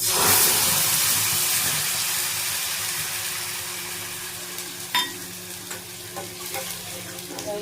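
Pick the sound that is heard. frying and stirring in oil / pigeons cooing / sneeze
frying and stirring in oil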